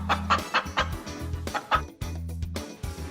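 A chicken clucks in a quick series of sharp, close clucks, pausing briefly before another burst, with no talking.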